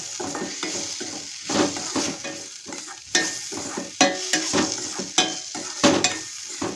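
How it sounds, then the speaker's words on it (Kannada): Garlic mixture for garlic chitranna fries and is stirred in a pan, close and steady, with repeated scraping strokes and soft clinks over a constant sizzle. "ಸೊ ಇವೆರಡು ಹಾಕ್ಕೊಂಡಿದ್ದಾದಮೇಲೆ ಇದನ್ನ ಮತ್ತೊಂದು ಸರಿ ಈ ಥರ ನೀವು ಫ್ರೈ ಮಾಡ್ಕೋಬೇಕು"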